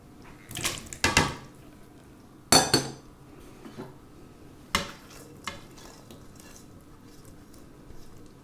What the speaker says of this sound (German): Nun kommen Kartoffeln und Chorizo-Mischung zur Eimasse.